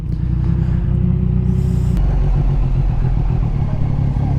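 A Yamaha MT-09 motorcycle accelerates hard, its engine a loud, steady close-up roar, with a brief quick-shift break in the drone just before the two-second mark.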